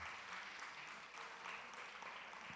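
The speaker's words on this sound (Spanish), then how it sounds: "Muy bien, dense un fuerte aplauso, por favor." Faint, steady applause from a church congregation, a soft continuous patter of many hands heard from a distance with a faint voice underneath.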